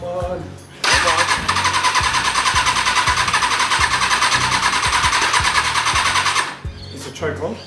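A Kawasaki ZX600-J motorcycle engine cranks on a jump starter in one loud, steady run of rapid rhythmic turning that does not catch, then stops, with a voice afterward.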